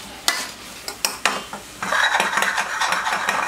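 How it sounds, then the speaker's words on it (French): Sweet potato purée with small chunks of potato is mashed coarsely in a pot, giving a few sharp scraping knocks followed by a steady wet squishing and stirring. "je ne vais pas non plus l'écraser trop finement"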